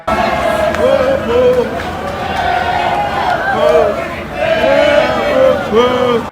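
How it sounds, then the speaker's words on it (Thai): Liverpool and Chelsea football fans at Wembley Stadium shouting and cheering as they greet their teams: a dense, loud crowd roar with rising and falling chant-like yells and babble throughout. "เสียงตะโกน เชียร์อื้ออึงมากนะครับ"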